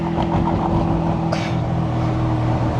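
A Mazda RX-7's rotary engine drones loud and steady from inside the car while driving on the road, with a brief sharp crackle partway through.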